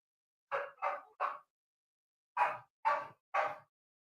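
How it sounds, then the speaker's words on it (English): A single dog barks six times in two clusters of three, sharp and fairly close against silence, arriving at a Colorado mountain home. "He's gonna come down barking."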